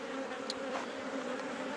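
A dense, continuous buzz of honeybees circling their hives after being moved from the city to a rural spot, close and even with occasional single bees whizzing by nearby.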